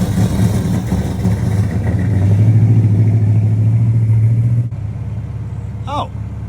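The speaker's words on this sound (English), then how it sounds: "This particular unit thankfully has the 5-liter small block Windsor V8" A 1981 Dodge Challenger with a 5-liter small block Windsor V8 runs close by, its engine droning loud and steady, swelling to a firmer rev midway before dropping back to a lower idle; a brief higher sound chirps near the end.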